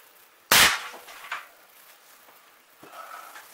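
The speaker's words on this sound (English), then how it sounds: "Attempting shot three." A single sharp gunshot from a hunting rifle cracks loudly up close, then a faint echoing tail and small knocks follow in a quiet outdoor setting.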